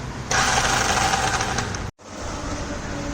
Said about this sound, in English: This bike is not starting with itself.